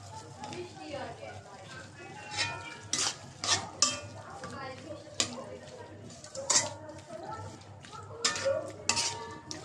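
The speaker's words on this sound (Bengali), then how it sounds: "মাছটা একটু কষিয়ে নেবো" Fish seasoned with chili powder fries in a pan while a utensil stirs and scrapes in irregular clanks over a low sizzle, with a voice speaking throughout.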